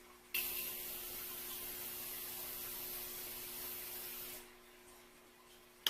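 A steady hiss of Morphe Prep and Set setting spray, lasting about four seconds, close and fairly quiet, then cutting off.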